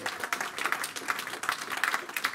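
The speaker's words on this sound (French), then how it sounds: "En donnant une acclamation au Seigneur" Applause from a church congregation during a French-language sermon, a lively burst of clapping with uneven rhythmic peaks throughout.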